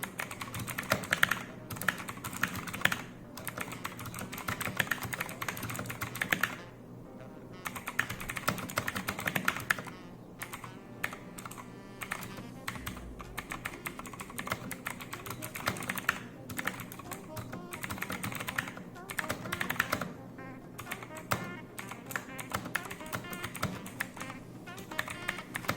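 Fingers type on an Ant Esports MK-1000 keyboard in close, crisp detail, a long run of rapid key clacks with short pauses between bursts and no talking.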